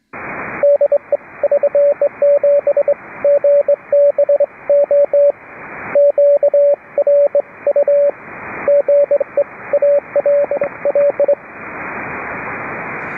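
Morse code CW keyed on a shortwave amateur radio public service net, a steady tone pulsing in bursts of dots and dashes over hiss and static, loud and continuous, with brief gaps between groups.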